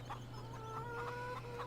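Chickens cluck softly in Farming Simulator 17 on a Pacific Northwest farm, with short irregular clucks and calls over a low, steady background hum and no talk.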